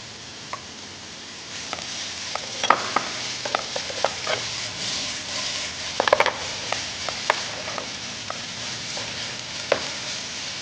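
Egg parotta with tomato fries in a pan, a steady soft sizzle broken by scattered clinks and scrapes of a spatula stirring and chopping throughout.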